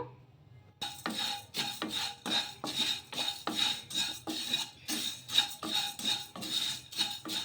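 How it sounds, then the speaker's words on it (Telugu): Vermicelli dry-roasting in a kadai over a low flame, a run of scraping, rasping strokes as a spoon pushes the strands against the pan, close and steady with short pauses, no talking. "ఇక్కడ ఒక కప్పు సేమియాని ఇప్పుడు వేయించుకోవాలి సిమ్లో పెట్టుకొని వేయించేసుకుందాము"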